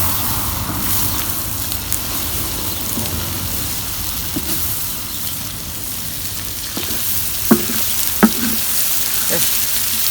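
Liver frying on a sac griddle outdoors in a village, a steady broadband sizzle running throughout with a few sharp crackles and pops near the end.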